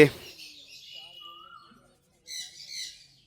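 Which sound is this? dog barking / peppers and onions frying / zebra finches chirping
zebra finches chirping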